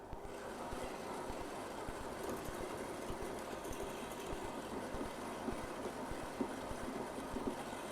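An electric stand mixer runs while cheesecake is being made, giving a steady, fairly quiet motor whir with a faint rattling texture that goes on without a break.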